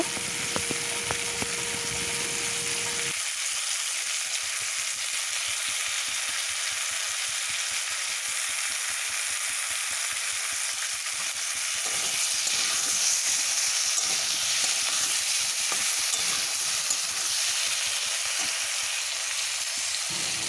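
Fish with ridge gourd and potato fries in a pan with salt and turmeric, giving a continuous sizzle that grows slightly busier partway through as the mixture is stirred, with no voice over it.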